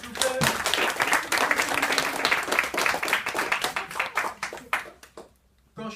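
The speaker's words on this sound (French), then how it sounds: "j'ai besoin d'un peu d'applaudissements, s'il vous plaît" An audience at a French slam poetry performance in a classroom claps, a brisk burst of close, uneven applause that thins into scattered claps and ends abruptly.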